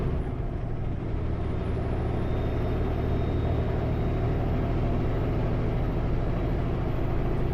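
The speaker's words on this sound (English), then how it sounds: "Another logging truck." A logging truck rolls past on a snowy highway, a steady, loud broadband roar of engine and tires holding constant throughout with a faint high whine above it.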